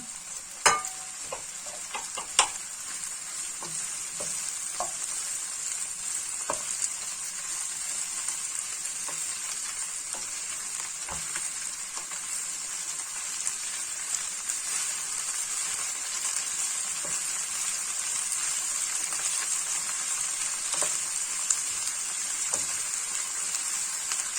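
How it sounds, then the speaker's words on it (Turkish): Çiriş greens sautéing with onions in a pan give off a steady, close sizzle for the whole stretch, with occasional sharp clicks from stirring and no talking. "şimdi çirişotlarımızı da soğanlarımızın üzerine alıyoruz ve kavurması için bekliyoruz, kavrulması için"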